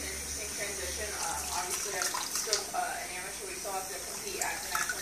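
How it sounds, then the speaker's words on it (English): Running tap water streams steadily throughout while dentures are rinsed under it at a bathroom sink, with a voice speaking over the flow. "Rinse them all off real nice."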